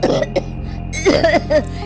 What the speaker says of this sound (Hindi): दोनों सास बहुओं को बहुत खांसी उठ रही होती है।